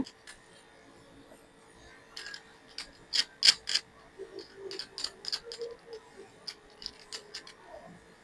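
Nuts being tightened by hand onto the terminal connections of a 12V 100Ah lithium battery, heard as a string of faint, sharp metallic clicks and ticks. They come irregularly in small clusters against a quiet background.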